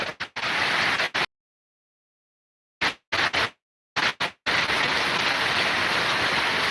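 Steady monsoon rain hisses loudly, broken by several abrupt cuts to total silence, then resumes as a constant dense downpour.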